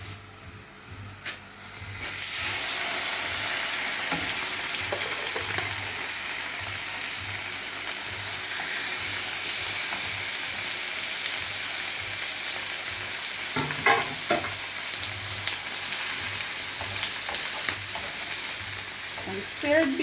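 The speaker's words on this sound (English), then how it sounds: "So I'll now add my beef." Beef sears in a hot pan with a loud, continuous sizzle that swells as the meat goes in, broken by scraping and stirring clatter from a utensil.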